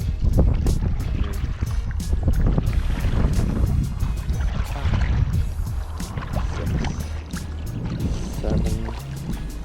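Reverse side paddle strokes churn the water beside a Nixy Newport G5 inflatable paddleboard. Close splashes and gurgles come in an irregular rhythm over steady wind noise, with no clear talk.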